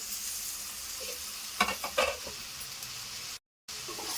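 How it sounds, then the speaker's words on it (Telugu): Finely chopped tomatoes drop into frying boti curry masala, a few soft thuds and stirring scrapes over a constant low sizzle, close by, with a brief silent gap near the end. "ఈ సన్న కట్ చేసి పెట్టుకున్న టమాటా వేసేసుకోవాలండి"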